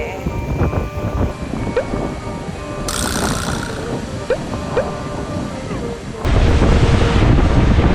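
Waves and surf at a surfing beach in Kamakura, Japan, with strong wind buffeting the microphone, a steady loud wash that swells louder near the end.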